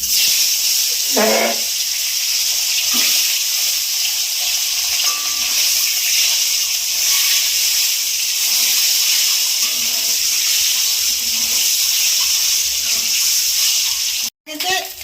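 Boiled, peeled eggs rubbed with salt and turmeric frying in hot oil in a kadai, giving a steady, close sizzling hiss that holds throughout with a brief break near the end.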